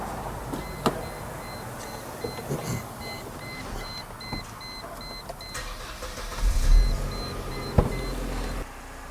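A Mercedes SLK 230 engine cranks and catches, then runs at a steady idle, with a repeating electronic chime beeping faintly in the background.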